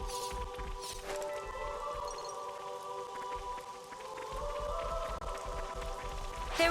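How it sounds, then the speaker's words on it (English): Steady rain patters across a landscape in Xenoblade Chronicles 3, a soft continuous hiss of drops under looping game music and faint effects. "I hate the rain."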